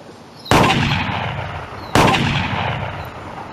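Two loud, booming shotgun blasts sound in the VR clay shooting game Clay Hunt VR, about a second and a half apart, each with a long echoing decay.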